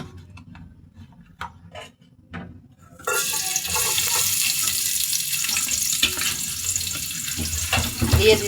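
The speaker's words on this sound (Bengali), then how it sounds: "এখন আমি পেঁয়াজটাকে সুন্দর করে ভেজে নেব।" Chopped onion dropped into hot oil in a pot for a beef curry, quiet handling clatter first, then a sudden loud, steady hiss of frying that continues to the end.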